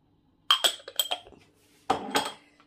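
Vegetables being put into a cooking pot, a few close metallic clanks and clinks of utensil against pot in two short clusters, with no voices.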